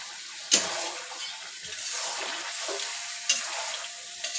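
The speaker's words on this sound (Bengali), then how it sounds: "অল্প পরিমাণ পানি দেবো আমি।" A small splash of water goes into a pot of cooking chicken curry, raising a steady close sizzle and hiss with stirring noise and two sharp knocks, and no talking.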